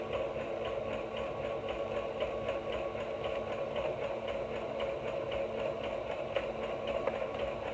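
A sewing machine running steadily to top stitch knit binding, with a continuous close, rapid mechanical whir and fine rhythmic ticking of the needle throughout, without talking.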